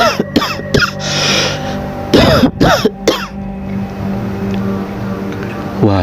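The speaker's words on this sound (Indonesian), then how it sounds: "mendengar ada suara batuk dari ruang tamunya" Several harsh coughs and throat clearings sound in a domestic living room, coming in a few separate bursts over a low droning background hum.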